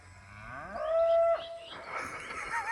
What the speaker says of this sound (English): That's the cow making the booky noise.